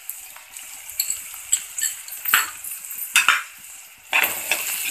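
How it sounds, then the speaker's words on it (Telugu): Onions and curry leaves fry in a pan, with a soft continuous sizzle broken by several sharper scraping stirs of a utensil against the pan, close and moderately quiet. "కొంచెం ఆనియన్స్ ఫ్రై అయ్యాయి కదా"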